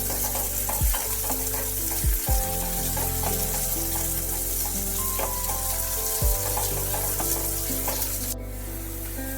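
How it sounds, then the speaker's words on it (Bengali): Thinly sliced onions sizzle in oil in a pan while being stirred, a loud continuous frying hiss broken by a few sharp clanks of the spoon, close up with no talk. "বেশ একটু ভাজা ভাজা করে নিতে হবে"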